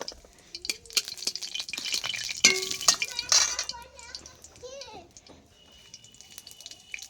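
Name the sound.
bay leaf and dried chili frying in hot oil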